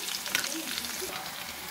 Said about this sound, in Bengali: কড়াইতে একটু ঘি দিয়ে দিলাম,